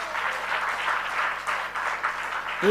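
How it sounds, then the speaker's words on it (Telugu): A church congregation claps together in praise, a dense and even wash of applause that carries on steadily without a break and is heard from across the hall. "చప్పట్లు కొట్టి దేవుని స్తుతిద్దాం"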